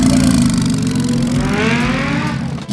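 Loud, close engine of a Nissan 370z revving hard, with the pitch climbing steadily and a brief drop-off near the end, during a rally among supercars.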